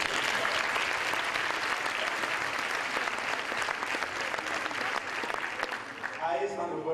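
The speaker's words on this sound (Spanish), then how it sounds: "Un aplauso, ¿no?" An audience at an international coaching conference breaks into applause, a dense, steady wash of clapping that fades out at the end as a voice begins speaking.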